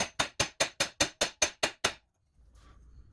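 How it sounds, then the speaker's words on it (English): Ten evenly spaced hammer blows ring out on a 1 oz silver bar in quick succession, each sharp and bright with a short ring, then quiet. "How about let's form this silver with a hammer?"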